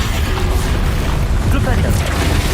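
A Confringo spell blast in Hogwarts Legacy rumbles as a heavy, sustained booming explosion, loud and close, with a voice talking over the roar.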